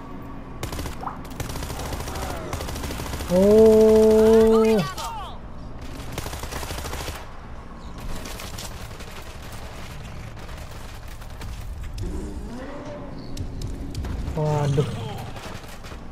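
Rapid gunfire from the zombie shooter game World War Z crackles in dense bursts across the stretch, mixed with game effects and a tonal alarm, while a player briefly exclaims.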